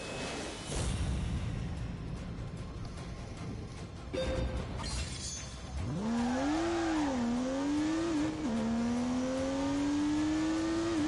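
A car in a PS4 Pro racing game revs up with a rising, wavering engine whine around an initial skittering wheel spin, building steadily and staying loud after a noisy, rushing start.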